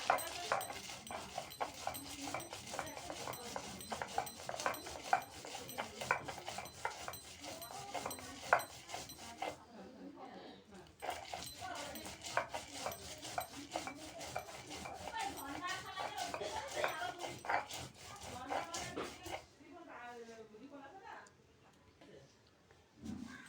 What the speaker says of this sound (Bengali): এখানে আমি প্রথমে জিরা আর সরিষা বেটে নেব